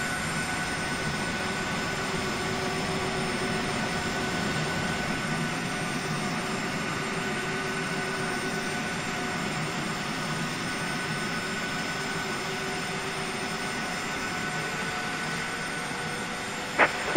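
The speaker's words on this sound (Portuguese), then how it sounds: "E agora vamos acionar o motor número 1." Engine number 1 of a Boeing 737-300 spools up during start in the X-Plane 11 flight simulator. A steady, moderate jet whine and rumble holds for the whole stretch, with a brief click near the end.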